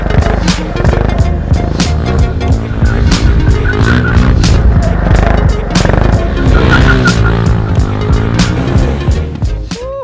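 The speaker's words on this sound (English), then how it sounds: "Man, those drifts are so fun!" A loud, close motorcycle engine revs hard throughout while the bike drifts, with tires squealing and skidding over the constant roar.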